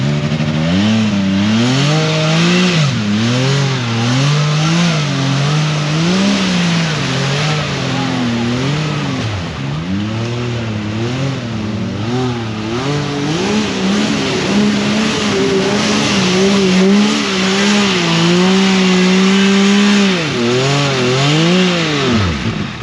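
A UTV engine revs hard and wavers as its drive belt slips, the pitch rising and sagging continuously for over twenty seconds, loud and close, with people talking over it on a muddy trail ride.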